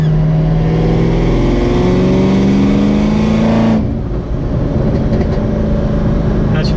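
A 700-rear-wheel-horsepower Chevrolet Camaro ZL1 engine revs hard and loud under acceleration, its pitch climbing steadily for nearly four seconds before it abruptly lifts off into a lower, rumbling cruise.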